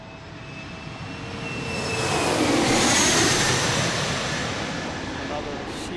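A CRJ 700 jet airliner departs from DCA airport, its engine roar swelling to a peak and then slowly fading as it climbs away, heard from a distance with a steady rumble.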